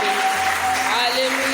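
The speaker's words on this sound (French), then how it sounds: "Est-ce que nous pouvons acclamer le roi des rois?" A church congregation applauding during a service, a dense, steady wash of clapping with sustained keyboard tones underneath, continuing without a break.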